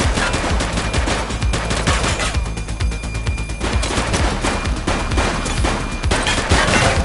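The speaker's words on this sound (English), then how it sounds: "He's shooting!" Sustained automatic gunfire in a police shootout from the video game The Precinct, a loud, continuous rattle of rapid shots filling the whole stretch with no voices.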